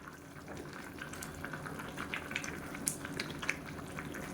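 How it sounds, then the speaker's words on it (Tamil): Biryani bubbling in a covered pot, a soft continuous simmer with small pops and crackles, close and steady, no voices. "இப்போ நல்லா கொதிக்க ஆரம்பிச்சிருச்சு"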